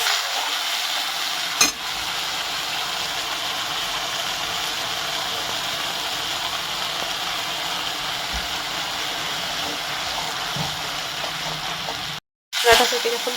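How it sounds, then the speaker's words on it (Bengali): Ginger and green chili paste frying in ghee and oil in a pan, a continuous loud sizzle with stirring, briefly broken near the end. "এটাকে ততক্ষণ অবধি ভাজবো যতক্ষণ না আদার কাঁচা গন্ধটা চলে যায়।"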